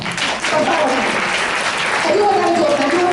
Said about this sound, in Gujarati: અત્યારે જ તાળી આપો